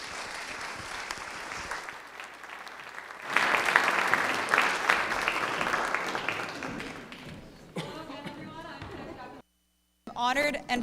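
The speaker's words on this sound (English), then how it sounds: "Yes, applause." Audience applause at a West Point Glee Club performance, a broad steady wash of clapping that swells loud for several seconds, then thins out and stops.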